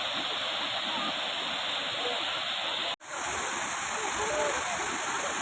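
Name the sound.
waterfall in Sikkim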